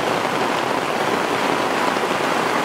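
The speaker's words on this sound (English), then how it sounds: "It's just been raining and raining and raining." Steady rain pours down on a garden with cucumber plants, a dense, even hiss of drops on surfaces that stays constant and close throughout, with no voices.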